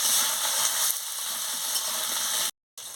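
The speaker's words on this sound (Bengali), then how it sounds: "এবার আমি আলুগুলোকে দিয়ে দিচ্ছি। মশলার সঙ্গে ভালো করে কষিয়ে নিচ্ছি।" Potatoes frying in a spiced masala in a pan make a continuous, even, close sizzle that cuts briefly to silence near the end. No voices are heard.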